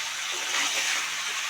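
Hot water pours into a pot of mutton curry in a steady, continuous gush lasting a second or two, with no voices.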